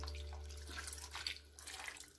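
Water poured into a cooking pot for mackerel in coconut milk, a soft steady splashing and trickling stream, close but fairly faint, with no talk.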